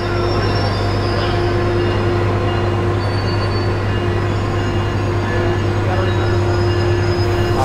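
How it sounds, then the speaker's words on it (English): A train rolls past close by in San Clemente, California, a loud continuous rumble with a steady mechanical hum throughout. "This train is not stopping."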